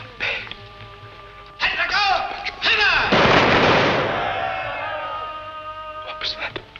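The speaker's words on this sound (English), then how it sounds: "Firing squad. It's execution day." Gunfire from a firing squad at an execution in an old film, a loud burst of shots with a long rumbling decay, set among voices and music.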